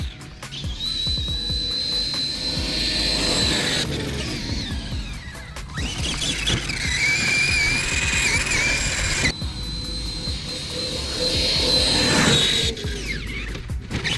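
A Traxxas Xmaxx 8s RC car runs at full throttle, its electric motor and drivetrain giving a loud, steady high whine with shifting pitch and gear noise throughout.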